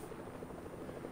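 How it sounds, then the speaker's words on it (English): Helicopter flying overhead in a video game, a steady loud rotor thrum with a pulsing beat and broad rushing noise filling the whole moment, no voices. "So many helicopters."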